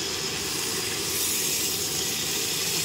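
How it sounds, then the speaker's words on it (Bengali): Water poured into a cooking pot for a Bengali thor recipe with Gobindobhog rice and potatoes, heard as a steady, loud hissing rush that fills the whole moment without pause. "আমি এবারে জল দিয়ে দিলাম।"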